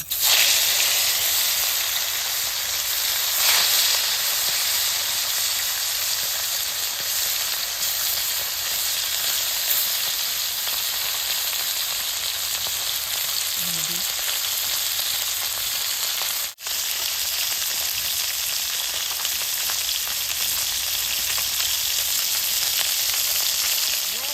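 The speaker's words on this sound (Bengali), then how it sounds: "তেলটা গরম হয়েছে মাছটা দিয়ে দিব" Taki fish frying in hot oil, a loud continuous sizzle and hiss close by that holds steady throughout, with faint occasional clatter underneath.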